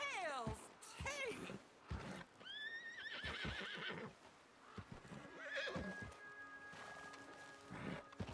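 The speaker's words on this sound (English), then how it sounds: "Horse does not want to calm down." Horse in Red Dead Redemption 2 neighs and whinnies repeatedly, several shrill descending calls mixed with snorts and clip-clopping hooves, while a player talks over it.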